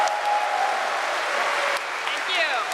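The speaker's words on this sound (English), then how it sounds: "big applause for Jennifer Weiß and Julia Meynen" Loud, sustained applause from a convention panel audience at a pony fan convention, a dense unbroken wash of clapping from a large crowd filling the whole stretch, with a few cheers rising near the end.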